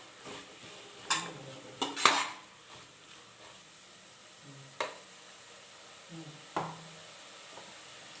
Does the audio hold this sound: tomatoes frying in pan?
yes